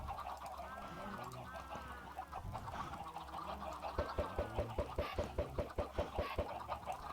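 Chickens in Minecraft cluck near and loud, first in scattered calls, then in a quick rhythmic run of repeated clucks over quiet game background.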